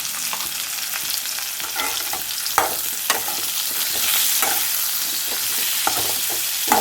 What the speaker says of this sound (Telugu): ఈ రెండు ఇలా వేగుతూ ఉండనియండి